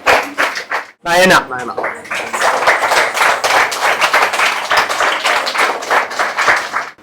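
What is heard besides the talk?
audience clapping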